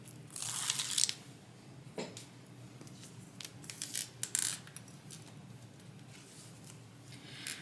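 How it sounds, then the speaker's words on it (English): Adhesive tape backing is peeled off while a tote bag is being sewn, giving a quiet, close crackly tearing with a few short rips and crinkles, and no talking. "Let's remove the tape backing."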